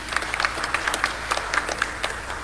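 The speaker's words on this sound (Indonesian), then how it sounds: "Tepuk tangan dulu buatin jemaat ini." A church congregation applauds in a brief burst of scattered, uneven hand claps, moderately close and without talk.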